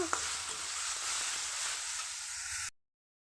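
Greens frying in a pan with turmeric powder give a soft steady sizzle with light stirring scrapes, fairly quiet, ending abruptly in silence after a few seconds.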